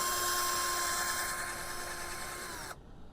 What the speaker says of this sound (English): you're going to use your drill to make a hole in one of the dots